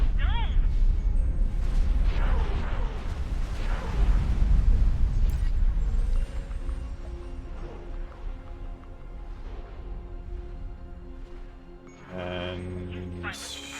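Explosions in the space combat game X4 Foundations, a heavy rumbling barrage of booms that fades to a lower roar, with a voice talking through it.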